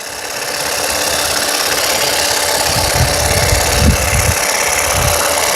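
A grass and hedge trimmer fitted with a wheeled extension runs steadily at close range, its continuous motor whine holding level throughout, with a few low rumbling bumps in the second half as it rolls along.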